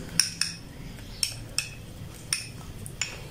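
A metal spoon stirs crushed spices and salt into milk in a bowl, making six or so sharp clinks against the side at uneven intervals. The clinks are fairly faint and close over a quiet background, with no talking.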